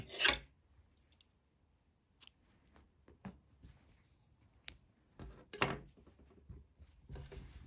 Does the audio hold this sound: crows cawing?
no